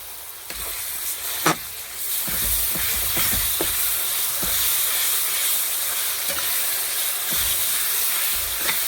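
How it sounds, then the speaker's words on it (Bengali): Ground paste of ginger, garlic, green chilli and dried chilli sizzling in a hot pan for a chicken dish, a loud continuous hiss close by with a few scattered clinks of utensils, no voices. "এটা আদা রসুন কাঁচা লঙ্কা একটু শুকনো লঙ্কা বেটে রেখেছি, এটা দিয়ে দিচ্ছি"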